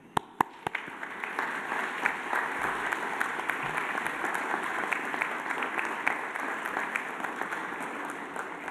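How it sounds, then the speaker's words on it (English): Graduates at a UNSW graduation ceremony clapping for their families and friends: a dense, sustained wash of applause from a large hall crowd that starts with a few sharp claps and swells, holding steady throughout. "Please thank them by clapping."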